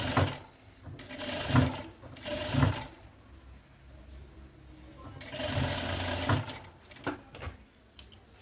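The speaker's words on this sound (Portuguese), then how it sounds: "Faz uma costurinha de segurança na bainha." A domestic sewing machine runs a safety seam along the hem of a fabric maternity bag, in several short bursts of motor whir with pauses between, close and moderately loud; someone speaks in the gaps.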